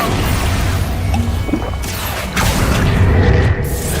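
Expulso explosion spell from the Hogwarts Legacy video game, a series of heavy booming blasts and crashes with whooshes, loud and close, repeating over a few seconds without talk.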